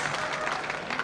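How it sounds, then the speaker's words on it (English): A crowd at the Chamonix 2015 IFSC Climbing World Cup speed final cheers and claps steadily, a dense, even wash of applause and shouting that stays loud throughout. "getting ramped up here for Annick Joubert."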